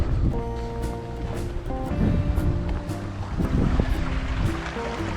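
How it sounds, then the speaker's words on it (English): Strong wind of about 25 miles an hour gusts across a small trout pond, giving a loud, continuous rushing roar with repeated buffeting bursts close against the microphone. "Wind's blowing like 25 miles an hour"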